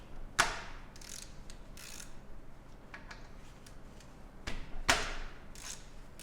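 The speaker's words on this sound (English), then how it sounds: "Next we're going to be removing these Vanos front cover bolts," Ratchet working on the 8mm hex Vanos front cover bolts of a BMW E39 Touring engine, with two sharp clicking bursts and lighter ratcheting clicks between them, close and fairly quiet.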